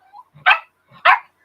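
A dog barks twice for a treat, two short sharp barks about half a second apart, each preceded by a faint whine, close and fairly loud.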